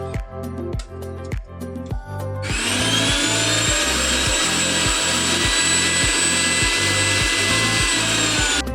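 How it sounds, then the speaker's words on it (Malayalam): Mixer grinder blending salted raw mango for chutney: a few jar knocks as contents are stirred, then the motor whines up to a loud, steady roar with regular rhythmic thumping from the jar. "വശങ്ങൾ ഇരിക്കുന്നതൊക്കെ നമുക്ക് ഇളക്കി ഇട്ട് കൊടുത്തിട്ട് ഒന്നുകൂടെ അടിച്ചെടുക്കാം"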